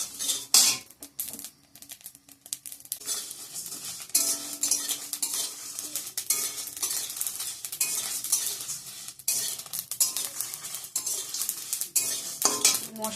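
Whole spices for an olive pickle, panch phoron, dried red chillies, fenugreek and mustard seeds, dry-roasted in an oil-free pan, with steady scraping and stirring clinks and a faint crackle throughout.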